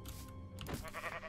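Sheep bleating in the Minecraft video game, a short bleat at close range amid the game's background sounds.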